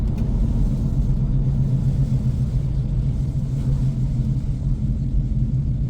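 A 1996 Chevrolet Impala SS engine rumbling while driving, a loud, steady low-pitched drone heard close and continuous, with no talk over it.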